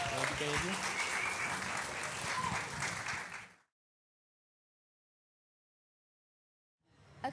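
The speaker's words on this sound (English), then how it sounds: "big round of applause for Agency 2" An audience at a maker cities presentation claps loudly for a few seconds, then the room falls completely silent before a brief burst of sound at the end.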